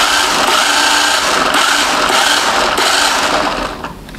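Small San Zuan 1:14 scale remote control drift car driven at full throttle, a continuous high-pitched electric motor whine, loud and close, easing off slightly at the end.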